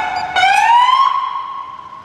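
Manual siren on a Chevrolet emergency vehicle gives one short rising wail that sweeps up and then holds steady, loud and close, with no talking over it.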